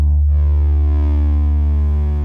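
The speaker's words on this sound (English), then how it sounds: "I'm going to sine wave and push the TLM, then you have a nice variations of the sine wave." A Radikal Technologies Delta CEP A synthesizer holds a loud sustained sine-wave tone with TLM modulation, rich steady harmonics and a slight sweep at the start, sounding alone.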